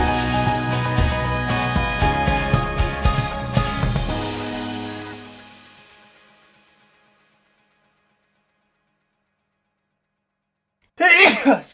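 Music fades out into silence, then a single loud, close human sneeze bursts out at the very end.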